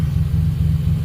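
Cars and a truck being shuffled around a yard to make room for a hatchback, with a steady low engine rumble at close range and no talk.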